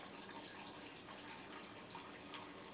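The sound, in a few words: water being poured into a container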